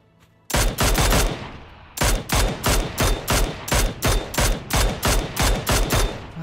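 Rapid bursts of automatic gunfire from an AKM rifle in the battle-royale game PUBG, one long volley followed by a steady string of loud, evenly spaced shots, close and sharp with no talking.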